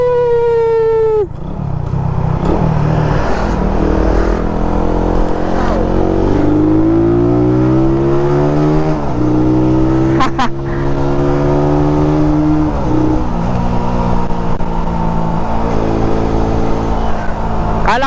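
A Raider motorcycle with a carburetor revs hard and close, its engine note rising and falling in repeated throttle sweeps that hold for long stretches, loud and alone without voices.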